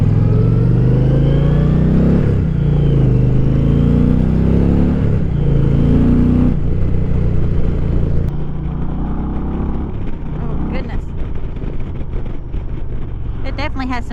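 A 2024 Indian Challenger Dark Horse motorcycle pulls hard under acceleration, loud engine drone rising in pitch through gear changes, then settling into steady wind rush over the road.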